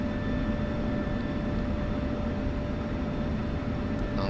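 An F-16 taxiing off the runway at Nellis AFB in the DCS flight simulator, a steady jet engine drone with a sustained whine, constant and fairly loud, no voices.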